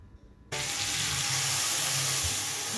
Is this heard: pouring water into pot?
yes